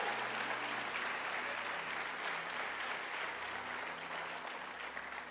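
A church congregation applauds, a dense, steady wash of clapping from many hands that goes on without a break, fairly distant and soft.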